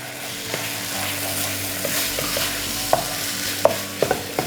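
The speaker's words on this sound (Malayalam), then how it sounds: "ഇങ്ങനെ കുത്തി ചിക്കൻ്റെ പീസൊക്കെ നല്ല പൊടിച്ചങ്ങ് കൊടുക്കണം" Chicken curry pieces being stirred and mashed in a pan for chicken puttu biriyani, a steady low sizzle under scattered clicks and scrapes of a utensil pressing against the pan, growing sharper toward the end.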